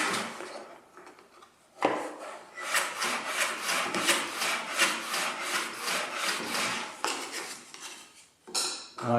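A hand plane slides back and forth on a wooden shooting board that needs wax, giving a series of rhythmic scraping strokes at close range after a brief pause.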